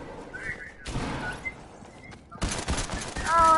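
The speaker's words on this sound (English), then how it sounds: "Oh, who's shooting?" Gunfire in an online shooter video game, bursts of shots crackling in two dense stretches with quieter gaps, mixed with game effects and players talking over it.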